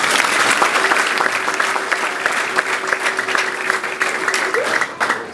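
A church congregation applauds in a dense, continuous burst of clapping that holds steady and fairly loud for several seconds, with no voices on top.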